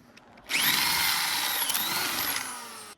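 A power drill whirs up abruptly and holds a loud, steady high-pitched whine for over two seconds as it bores a hole for a drift tire sprayer, then stops.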